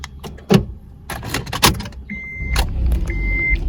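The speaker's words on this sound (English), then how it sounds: "Car starts fine." A car engine starting after key programming: a few clicks and rattles of keys, then a brief electronic tone and the engine catching into a low steady rumble, close and fairly loud, with no talking.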